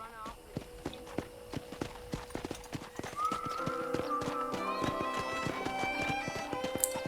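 Horse hooves clip-clop steadily on a dirt track in Red Dead Redemption, a regular trotting rhythm close by, with game music and a spoken voice layered over the hoofbeats.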